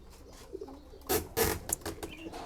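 Pigeons coo softly nearby while being packed for delivery, with a brief rustle and flutter of wings in the middle.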